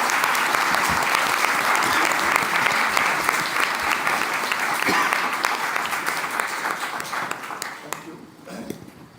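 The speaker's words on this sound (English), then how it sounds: "A round of applause, please." An audience at a panel side-event on Article 6.4 applauds in a full, even roll of clapping that gradually fades over several seconds, with some voices mixed in beneath it.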